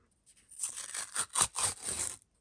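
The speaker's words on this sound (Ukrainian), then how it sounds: "Ось наш пакетик. Відкриваємо." Crisp tearing and crinkling of a thin paper packet, several short rips in quick succession, close and alone in otherwise quiet surroundings.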